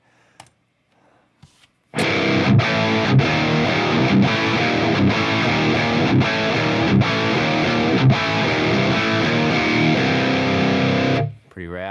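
A heavily distorted electric guitar riff through a Royer 121 ribbon mic impulse response plays loud and steady for about ten seconds with rhythmic accents, then stops abruptly after a few quiet taps.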